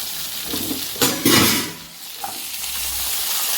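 Chopped tomato and carrot drop into a sizzling pan of oil for bachelor-style sambar, giving two loud bursts of frying sizzle over a steady background hiss, with a brief scrape of stirring afterward.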